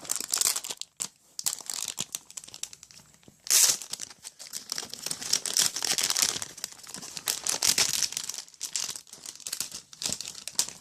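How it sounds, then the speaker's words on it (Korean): A salad powder packet is torn open by hand, with close, continuous crinkling and ripping of thin plastic in irregular bursts for about ten seconds and no talk. "그 다음에 샐러드 파우더. 한번 만져볼게요. 뜯어볼게요."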